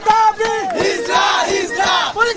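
Students at a protest in Dhaka chanting slogans, a loud crowd of voices rising and falling in rhythmic shouted phrases, close by and continuous.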